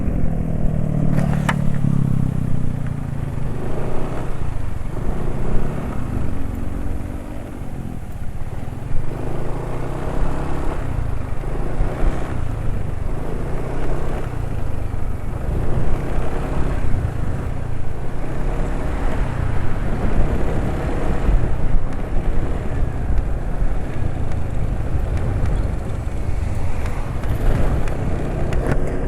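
A Honda Vario 150 scooter engine idles rough and clattery on a quiet daytime road, a steady uneven mechanical rattle running close and continuous throughout.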